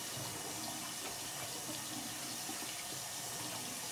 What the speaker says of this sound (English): And wash it off with warm water again.